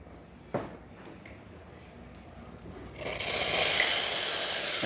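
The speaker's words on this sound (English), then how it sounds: "The steam, as you can see, very powerful, working perfectly fine." Steam wand of a repaired VBM espresso machine opening with a click, then a loud, steady, close hiss that starts after about three seconds and continues unbroken to the end.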